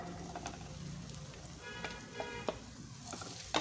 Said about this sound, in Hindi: अब इन खजूरों को भुनना है इसमें।